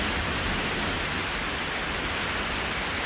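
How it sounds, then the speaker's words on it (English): Steady rain drums against a window pane in a continuous, even wash of patter with no gaps, close and fairly loud, and no voices. "The rain continues to fall, a steady drumbeat against the window pane"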